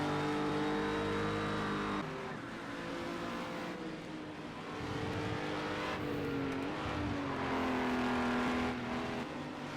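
Honda NSX race car in the Project CARS 2 racing game, its engine note rising and falling through gear changes and revs, steady and prominent for the whole stretch, with faint tire squeal and no talking.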